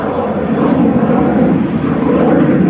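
A plane takes off at Manchester Airport, a loud, steady engine roar that fills the whole moment without a break or any voices.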